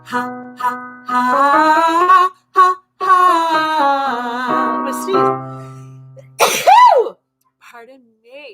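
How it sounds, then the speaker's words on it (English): A single loud human sneeze bursts out after a stretch of sung or laughing vocal tones, followed by brief quiet and a faint trailing sound. "I'm gonna sneeze."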